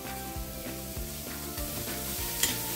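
Beans and cabbage frying in a pan, a steady close sizzle broken by regular scraping stir strokes roughly every third of a second, with a short metallic clink near the end and no voices.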